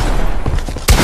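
A drum gun fires in Fortnite, a loud, close burst of rapid gunfire ending in a heavier blast, with no talk.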